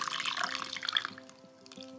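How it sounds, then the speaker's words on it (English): Milk poured over a hot chocolate bomb gives a soft, steady liquid trickle and splash that fades away after a second or so, heard quietly and close. "Okay, mommy's gonna pour."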